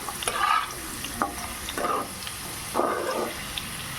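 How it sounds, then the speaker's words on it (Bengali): Potatoes frying in a pan, soft sizzling broken by several bursts of stirring and scraping, fairly quiet and without talk. "আলুটা প্রায় ভাজা হয়েই গেছে"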